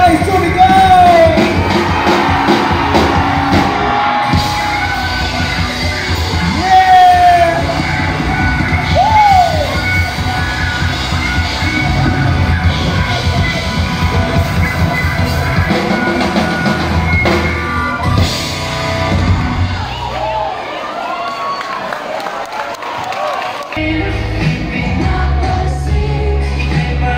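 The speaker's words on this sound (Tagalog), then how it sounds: "lagyan natin na malakas na sigawan! Now, this side, lasan natin, lahat ay sumigaw!" A large crowd at a youth camp in Iba, Zambales yells and shouts loudly and continuously, cheering over amplified music, with a brief quieter dip near the end.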